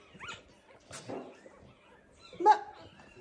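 Newborn puppies give short, thin whimpers and yips, a few faint cries spaced across a quiet moment indoors, with brief soft human voice sounds mixed in.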